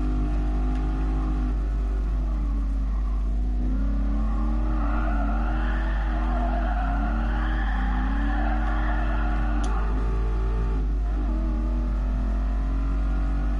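A racing car engine in the video game Gran Turismo Sport drones steadily as it drives off road, its pitch wavering through shifts and revs across a long continuous stretch, loud with no talking.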